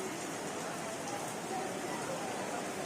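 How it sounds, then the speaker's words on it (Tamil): Steady broadband hiss of rain falling through a warm summer night, an even wash with no breaks, close and moderately loud. "பத்தியா மழை பெய்யுது பத்தியா"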